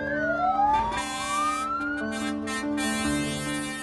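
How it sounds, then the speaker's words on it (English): Sirens from mountain rescue and fire brigade vehicles wail together in a town, loud rising and falling tones overlapping steadily with engine rumble beneath. "the mountain rescue and the fire brigade had the sirens going"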